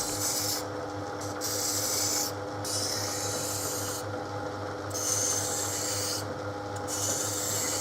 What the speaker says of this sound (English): With the help of a needle file, further finishing is also done.